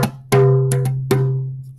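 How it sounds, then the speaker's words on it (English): Djembe slaps: four sharp, bright strikes, the first and last ringing longest with two quick hits between, played close and loud with no talking. "Slap that sounds like this."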